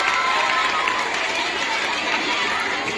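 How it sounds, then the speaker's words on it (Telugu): An audience at a school career event claps in a dense, steady wash of applause that lasts the whole moment, with no break. "చప్పట్లు కొట్టండి"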